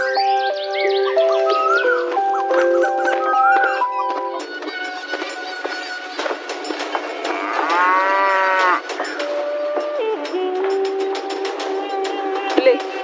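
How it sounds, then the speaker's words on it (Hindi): A cow lowing in long, drawn-out moos, several calls in a row over a tonal musical background. "गौरी जब भी घास चरकर आती तो रंभाते हुए भगवान को याद करती।"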